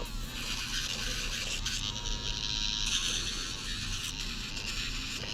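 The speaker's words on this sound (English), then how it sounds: "I'm just gonna hit it with this cordless grinder" A cordless nail grinder buzzes steadily against a dog's nails, a close, continuous whirring hum with slight dips in pitch as it presses and lifts, no voices.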